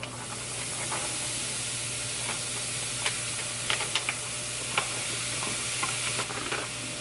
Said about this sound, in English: we are gonna go ahead and put the cauliflower rice in this pan